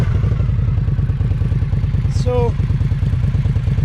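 An Indian Scout motorcycle engine idles near 1100 RPM, a steady, close, low pulsing throb with mechanical clatter; a brief whine and a single spoken word break in midway.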